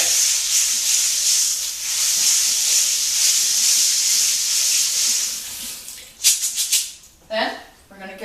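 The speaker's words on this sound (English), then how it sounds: "So we're going to go over to our sink and give it a good rinse." Dried chickpeas being rinsed under a running sink tap, with a steady loud hiss of water for several seconds. It then gives way to uneven splashing and rattling bursts near the end.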